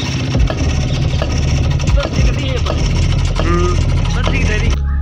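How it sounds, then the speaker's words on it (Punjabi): An old-model Rajdoot motorcycle engine with its silencer baffle removed runs at a steady, close idle. The low, even thrum continues throughout while a voice sounds over it, then cuts off at the end. "ਇੰਜਣ ਇਹਦਾ ਓਕੇ ਰਿਪੋਰਟ ਹੈ ਦਾਣੇ ਗੇਅਰ ਦਾ ਟਕ ਟਕ ਪੂਰੀ ਆਵਾਜ਼ ਸੋਹਣੀ ਹੈ"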